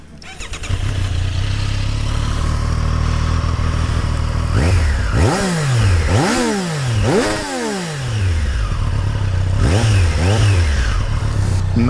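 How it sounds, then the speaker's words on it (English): A 2023 Triumph Street Triple 765 RS motorcycle starts and settles into a loud, close idle, then gives a series of sharp throttle blips that rise and fall in pitch, two clusters of revs separated by idle. "let's do a start and sound test."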